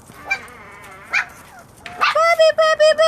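Puppies yip and bark in short bursts, ending in a quick run of high, loud, repeated yelps, with voices faintly in the background.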